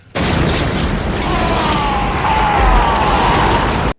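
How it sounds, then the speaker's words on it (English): A pipe bomb blows up Freddy in a horror film scene: a loud, sustained roaring blast with crackling debris and a rising whine, filling nearly four seconds without speech. "Freddy gets blown up with a pipe bomb"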